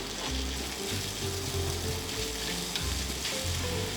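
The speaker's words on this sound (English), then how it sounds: "let's add onion and green pepper" Onion and green pepper sauté with sausage in a pan for Japanese ketchup spaghetti Napolitan, a constant close sizzle with a low background hum and faint mechanical ticking throughout.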